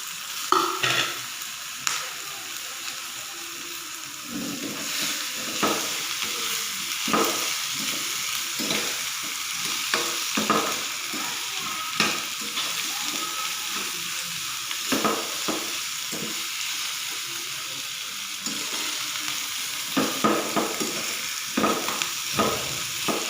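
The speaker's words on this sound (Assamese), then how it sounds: "আলুখিনি অলপ ভাজি ল'ম।" Boiled potatoes frying in a pan for a potato and papad dish, with a steady sizzle broken by frequent scraping stirs of the spatula, close and fairly loud, with no one talking.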